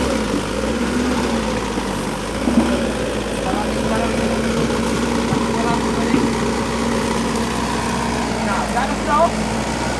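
A Komatsu excavator's diesel engine runs at a steady idle after the machine was pulled out from being submerged, a continuous low rumble with people talking over it.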